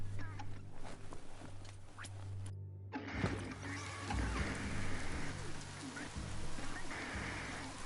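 Steady rain pours in the video game Biomutant, a dense hiss of drops on surfaces with a brief dropout, then resuming alongside a low sustained rumble and scattered sharper patters.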